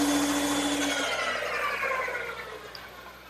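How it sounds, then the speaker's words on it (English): A bandsaw cuts through a 1x6 board, a loud close whirring whine that tapers off as the cut finishes and the blade runs on, with no talk. "I'll cut it on my bandsaw"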